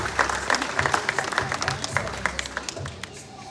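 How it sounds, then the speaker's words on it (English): An audience claps steadily, a dense patter of many hands filling the room for a few seconds. "Let's give her a big round of applause."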